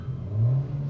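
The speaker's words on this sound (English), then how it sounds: "I'm gonna give it a couple neutral revs." A 2024 Honda Civic with an upgraded Megan exhaust revs briefly in neutral, a low, rumbling burst that swells and eases back, loud and close, with no talking.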